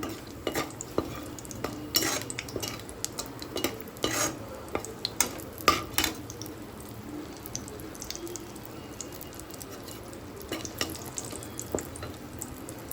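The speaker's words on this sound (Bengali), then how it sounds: "এবার আমি কড়াইয়ে কয়েকটা বড়ি ভেজে নিচ্ছি।" Bori lentil dumplings fry in oil in a kadai with a soft steady sizzle, broken by frequent sharp clicks and scrapes of a spatula stirring, fairly quiet and close, with no talking.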